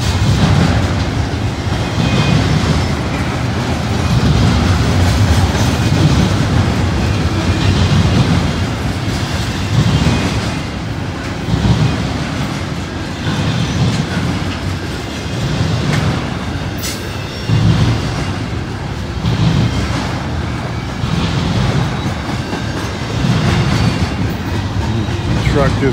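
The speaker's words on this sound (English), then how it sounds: "Trains just cleared the crossing." A long freight train rumbles steadily through a B&O railroad crossing on a bright day, loud and close, with continuous wheel clatter and rolling noise for the whole stretch.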